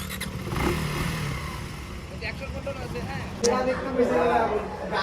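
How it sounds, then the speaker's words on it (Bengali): A new motorcycle's engine hums nearby and rises briefly as it pulls away, with chatter and crowd noise around it at a birthday gathering. "আর এই যে বার্থডে বয় হিরকের নিউ বাইক নিয়ে চাইল দিচ্ছে।"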